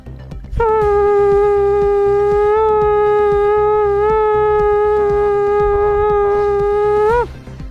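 A voice holds one long, steady, buzzy horn-like tone for about seven seconds, imitating a conch shell being blown, loud and close.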